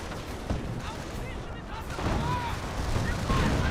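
A dense, continuous roar of gunfire and artillery in a Company of Heroes battle, with overlapping shots and booms that swell louder in the second half.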